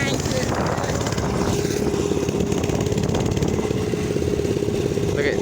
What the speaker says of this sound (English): I'm racing a motorcycle and a moped.